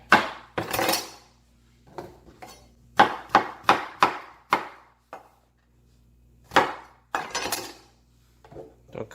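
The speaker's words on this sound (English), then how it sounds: "I'm just going to cut it into sizes, enough to small sizes, so that I can put it in the blender" A knife chops sharply through eggplant against a cutting board in irregular bursts of hard, close knocks with short pauses between groups of cuts.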